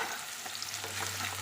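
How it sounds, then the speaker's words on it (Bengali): Onions frying in hot oil get stirred in a pan, with a short burst of close scraping and shuffling over a steady sizzle and no voices. "একবার নেড়ে দেবো"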